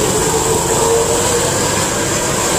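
A Hino-engined intercity coach bus rolls past a roadside bus agent, its engine giving a loud, steady, broadband roar that holds evenly throughout, with no talking.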